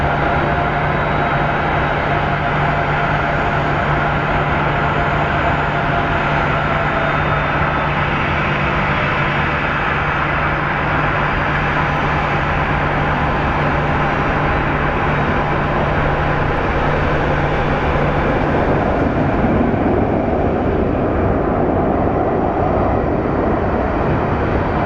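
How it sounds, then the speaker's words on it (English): An MD-11 jet rolls out after landing at Phoenix Sky Harbor airport, a loud, continuous roar of engine noise and rushing air with a steady low hum, holding constant throughout. "Stopping on a dime is the MD-11"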